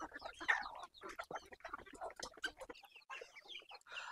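Free-range country chickens on a village poultry farm cluck and chatter in quick overlapping bursts, fairly close, with a brief lull before the clucking picks up again.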